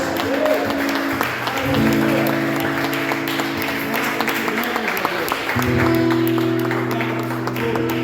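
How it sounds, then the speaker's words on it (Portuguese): A church congregation claps during a Sunday service while sustained organ or keyboard chords play underneath, producing continuous steady applause mixed with music and voices. "Levante as suas mãos, aplauda e louvore o nome do Senhor Jesus"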